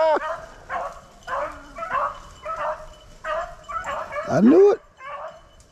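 Several hunting dogs chasing a swamp rabbit through snowy ground let out repeated barks, yips and whimpers at a moderate distance in an uneven rhythm, with someone speaking over the pack.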